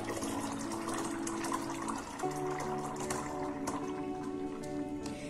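Beet fertilizer pours through a funnel into a litre of water with a steady, continuous watery gush and trickle that fills the whole moment, with no talking.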